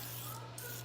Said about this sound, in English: why brush oil and dirty something else when I can just spray it, because this is pure oil